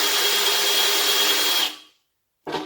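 A power drill bores steadily into a wooden table top for a chain stitch machine, a loud continuous whine for about a second and a half, then it stops, falls silent, and briefly starts again.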